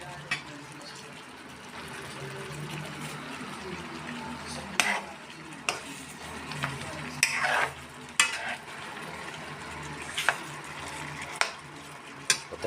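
Pork in a small pot sizzles softly on a stove while a utensil scrapes and clinks against the metal in irregular stirring strokes, quiet and close, with a few sharper knocks.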